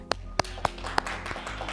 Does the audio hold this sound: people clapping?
yes